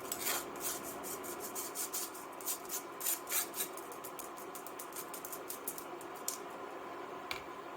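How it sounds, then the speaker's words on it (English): Soft, raspy scraping and rubbing of flour being sifted for white chicken chili, a continuous gritty texture with small tapping pulses, fairly quiet and close. "I need to sift the flour"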